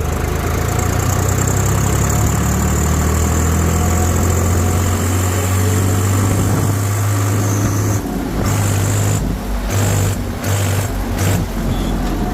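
Swaraj tractor with a 3478 cc engine running hard in top gear, a loud steady diesel drone with a constant low hum that briefly breaks and resumes near the end.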